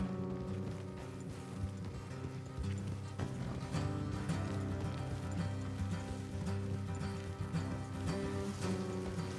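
Horses clip-clop at a run in Red Dead Redemption 2, a steady hoof rhythm under a loud game soundtrack of sustained music throughout.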